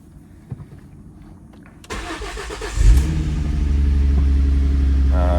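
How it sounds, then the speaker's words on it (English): A car engine starts after a few quiet seconds with light clicks and handling noise: a short crank catches with a loud burst, then settles into a steady, close idle rumble. "So we need to start the car."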